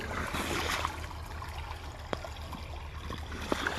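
Water runs from a pipe into the basin around a tree on a farm, a steady low trickling and gurgling stream with a few small splashes and clicks, close by, with no talk.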